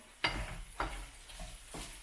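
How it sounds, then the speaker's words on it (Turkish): Chicken sizzles in a pan while a utensil stirs it, giving a few soft scraping strokes against the steady crackle of frying. "Bir yandan burada da tavuğum pişiyor."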